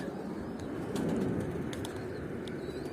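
Pigeons flapping their wings in tumbling play flight over a garden, a steady rustling flutter with a louder burst of wingbeats midway and faint distant chirps in the background.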